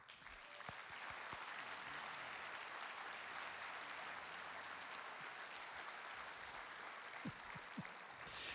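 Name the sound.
applause for the advancement team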